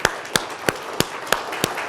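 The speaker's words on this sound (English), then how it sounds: "can we have a big round of applause for the panel," Six sharp, evenly spaced hand claps sound close by, about a third of a second apart, at the start of an audience's applause for a panel.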